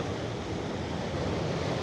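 Sea waves wash against an eroding coastal shore in a steady, broadband roar, with continuous surf and some wind noise on the microphone and no voices.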